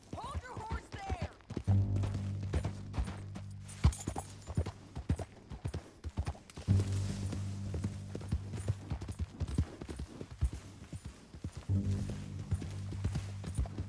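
Horse hooves clip-clop in a Red Dead Redemption 2 game scene, steady rhythmic footfalls at moderate distance running beneath recurring dialogue and a low musical drone.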